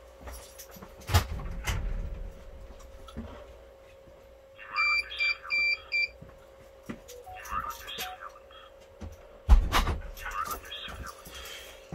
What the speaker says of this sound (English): you will hear the buzzer on the NVR.